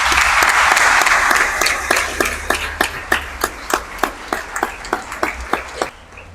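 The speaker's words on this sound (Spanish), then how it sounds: "Y continuar con un aplauso." Congregation at a first communion Mass breaks into applause, a dense loud burst of many hands that thins over six seconds into scattered, evenly spaced claps from a few people before stopping.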